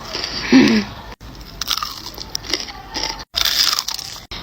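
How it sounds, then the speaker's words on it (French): Crispy KFC chicken tenders and fries crunch under repeated close bites, sharp crackly bursts separated by brief pauses. "Écoutez cette croustillance."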